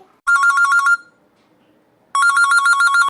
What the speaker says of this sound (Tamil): போன் வருது